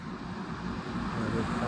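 A truck drives past outdoors near a small remote-control MiG-15 model jet flying field, a steady low rumble of road noise that swells slightly as it goes by, with no talk.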